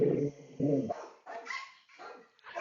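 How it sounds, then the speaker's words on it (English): Several dogs barking in bursts, deep woofs alternating with higher yaps, somewhat muffled and in the background, with pauses between barks. "there were dogs barking in the background"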